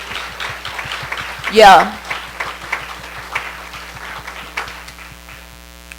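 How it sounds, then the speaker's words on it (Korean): A church conference congregation claps hands in praise of God, a dense crowd clapping under a sustained hum, with a voice speaking briefly and a louder shout rising in the middle. "Now I want you to put your hands together and give God praise"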